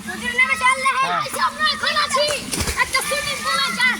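People splash into an outdoor swimming pool at a children's park, with watery slaps and one sharper splash midway, all under excited children's and adults' chatter.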